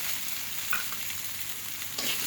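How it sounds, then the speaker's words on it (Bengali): Mung dal and fish frying together in a pan give a soft, steady sizzle with faint stirring scrapes, continuous and fairly quiet, with no voices. "আমি এখন খুব সুন্দর করে ভেজে নিচ্ছি ডাল আর মাছ দিয়ে"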